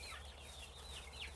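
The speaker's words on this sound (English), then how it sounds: "I can tell that some of the chickens are actually distressed right now" Faint, restless clucking from a flock of distressed chickens settling for bed in the evening, soft chirpy calls repeating over a low steady background hum.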